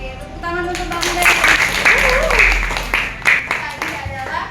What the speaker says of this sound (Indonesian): tepuk tangan untuk Bang Ben.